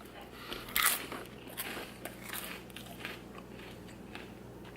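Someone bites into a crunchy caramel rice cake chunk dipped in yogurt, giving a sharp crunch followed by quieter crackly chewing close to the mic.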